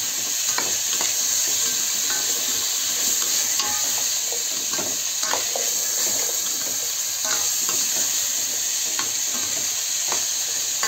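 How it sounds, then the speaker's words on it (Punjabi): Potatoes fry in a pan with a steady bright sizzle, broken by repeated clicks and scrapes of stirring throughout. "5 ਕੁ ਮਿੰਟ ਆਪਾਂ ਆਲੂਆਂ ਨੂੰ ਪਹਿਲਾਂ ਭੁੰਨਾਂਗੇ"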